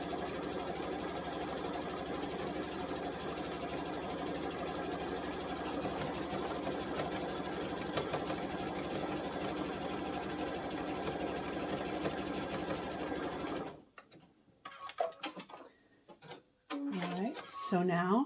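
A sewing machine runs a continuous zigzag stitch through fabric for a kitchen boa, a dense rapid mechanical chatter for most of the stretch before stopping, followed by quieter handling noises and brief talk.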